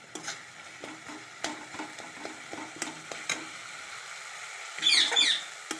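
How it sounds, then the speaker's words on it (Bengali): Spice paste with tomato and salt fries in a pan, a soft sizzle under repeated scraping and tapping stirs, with a sharper brief crackle near the end. "এবার মশলাটা আমার ভাজা ভাজা হয়ে আসছে"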